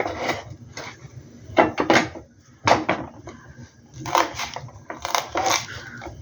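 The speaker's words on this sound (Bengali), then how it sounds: "আমি কাঁচা লঙ্কা কুচি করে নিচ্ছি" A knife chops green chillies on a cutting board in uneven bursts of sharp knocks and taps, close and clear, with quiet pauses between the runs and no speech.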